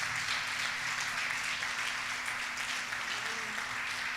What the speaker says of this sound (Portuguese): Vamos aplaudir a palavra de Deus mais uma vez.